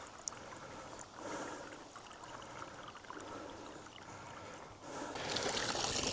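A pond pump pushes water into an open sand filter, giving a steady low gurgling and trickling flow, quiet and continuous, swelling slightly louder near the end.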